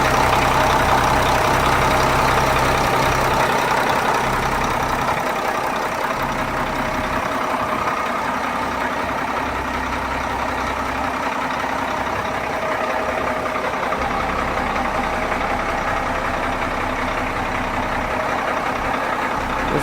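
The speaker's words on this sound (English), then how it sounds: "show you guys how the engine is performing" Changlin PY165H motor grader's freshly rebuilt diesel engine running at a steady idle, loud and close, with an even low rumble and no talking.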